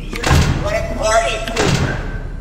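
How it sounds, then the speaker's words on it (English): In the Ultimate Custom Night video game, a door slams shut with a heavy, booming thud, followed by a second dull impact, loud and close, with a voice talking over it. "I closed the door on Funtime Freddy's."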